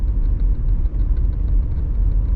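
A 1983 Porsche 924 2.0 with an automatic gearbox cruising in third gear at low revs, giving a steady, deep engine rumble heard from inside the cabin, with no other sounds over it.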